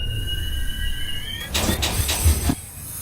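An NYC Subway R68 train on the D line in the OpenBVE simulator runs steadily with a low rumble, a high wheel squeal fading, then a burst of clattering rail noise near the end.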